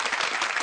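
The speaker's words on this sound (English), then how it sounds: "I give myself some virtual applause on" Applause sound effect played during a jazz guitar live stream, a short burst of dense clapping at steady loudness with no talk over it.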